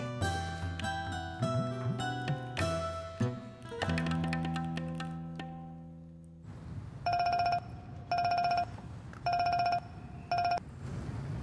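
A telephone rings in a domestic comedy scene: after a stretch of tonal music, four evenly spaced electronic ringtone bursts sound clearly, with short pauses between them.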